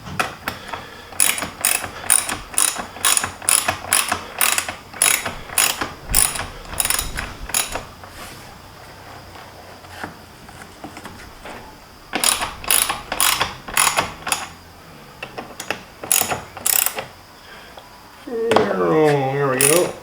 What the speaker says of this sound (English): Let's just put that on with a wrench.